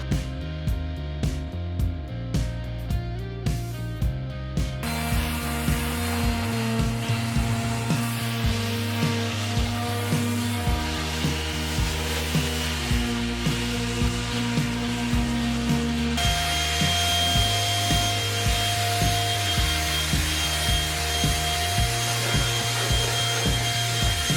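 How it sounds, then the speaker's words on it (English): A power sander works along the edges of a wooden farmhouse table, giving a steady whirring drone with rhythmic pulsing for the whole stretch, close and fairly loud, with tonal sound layered over it. "So I'll probably sand the edges"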